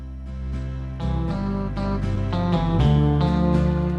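A sustained organ plays a slow sequence of held chords, each change blending smoothly into the next at a steady moderate volume.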